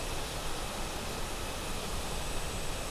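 Steady, loud broadband rush of wind and exterior noise around an Airbus A330 in Microsoft Flight Simulator, a constant even roar with no breaks, voices or distinct events.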